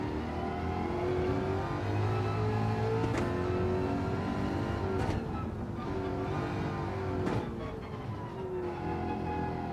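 Car engine revving in a racing video game, the pitch swelling and easing in long continuous pulls that stay loud and close throughout, with no talking over it.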